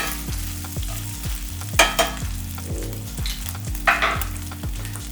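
Meat for Mexican tacos hits a hot skillet. A steady sizzle erupts into two loud hissing bursts, over a low, repeating droning tone underneath.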